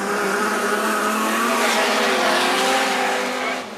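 Outlaw sedan race cars roar away at the start of a race at Macs Speedway, a dense, loud wall of engines revving and tires screeching continuously throughout.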